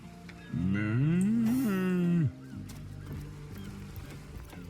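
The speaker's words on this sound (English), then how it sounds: "That was the worst moo I've ever heard." A cow in the Divinity: Original Sin video game lets out one long, loud moo that rises and falls before cutting off, followed by quieter background ambience.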